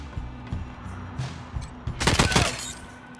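Bursts of automatic gunfire from a co-op session of the video game Wasteland 3, a dense crackling volley rising over quieter combat noise and a faint background hum.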